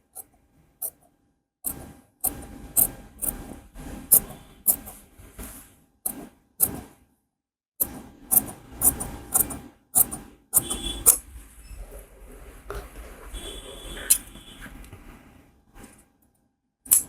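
Scissors cut fabric along a marked armhole shape on a tailor's garment front, a series of close, sharp snips in bursts separated by short pauses, with a rustle of handled cloth.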